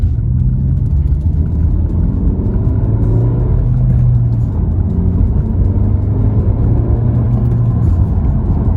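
A 2020 Honda Civic Si on its stock exhaust gives a subdued, steady low rumble at close range, with slight rises and falls in engine tone throughout and no voices.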